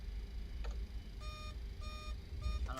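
An electronic alarm in the Microsoft Flight Simulator video game sounds in three short, evenly spaced tonal beeps over a low engine-like rumble, with a faint blip just before them.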